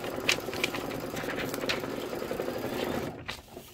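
A home embroidery or sewing machine runs a steady, rapid stitching buzz while tacking down fabric on a Halloween-themed appliqué pillow, heard close and continuous with no talk.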